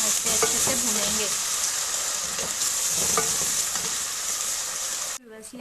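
Ginger, garlic and green chili paste fries in hot oil for a beef kofta curry, giving a steady close sizzle with occasional stirring scrapes and clinks throughout, then cutting off abruptly near the end.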